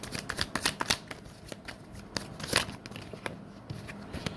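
Tarot cards being shuffled for a reading, a quick run of crisp riffling flicks and soft slaps close to the mic, with brief pauses between bursts and no talking.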